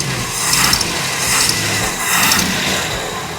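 A Jeep 4.2 engine fitted with a Weber carburetor idles in neutral, giving a steady close rumble with gentle swells in level and a faint ticking that points to a lifter or exhaust leak.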